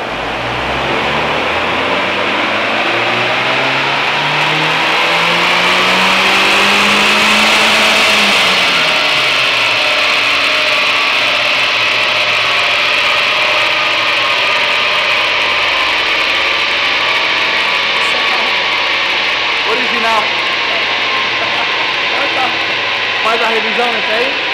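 A car engine roars loudly on a dynamometer during a power test run, its pitch climbing steadily through a full pull and then dropping away, with people talking faintly beneath the noise.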